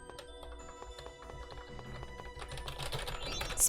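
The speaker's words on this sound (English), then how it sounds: "Spamming my keyboard." Rapid spamming of a computer keyboard, fast clattering key presses in a steady stream beneath game music, growing slightly louder toward the end.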